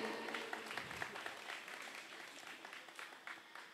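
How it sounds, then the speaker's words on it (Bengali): Audience at a theatre festival clapping steadily, a dense patter of many hands throughout, fairly loud and continuous with a faint voice briefly underneath. "সবাই একটু করতালি দিয়ে আমাদের উৎসাহিত করুন।"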